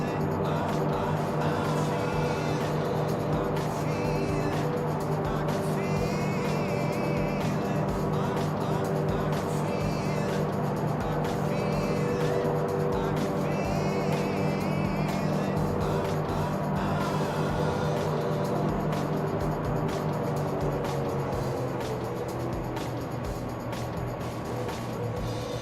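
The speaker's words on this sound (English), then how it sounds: "Plane sounds great, yeah, it's an awesome sounding aircraft." Steady droning aircraft engine in the X-Plane 11 flight simulator, a general aviation plane held at constant power, loud and continuous throughout with a slight rise and fall in tone.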